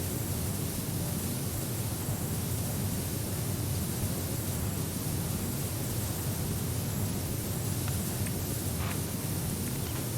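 Pressure washer spraying water in a video game, a steady, dense hiss like white noise running unbroken and evenly loud throughout.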